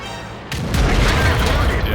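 A heavy tank cannon fires in World of Tanks from an M6A2E1, a single deep boom that rolls into a long, loud rumbling tail.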